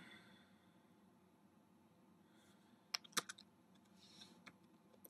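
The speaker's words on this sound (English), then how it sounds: "That's why the keys sounded so loud." Keys tapped on a laptop keyboard whose built-in microphone picks them up, a few sharp, loud clicks in a short burst midway over a quiet room hiss, followed by scattered fainter taps.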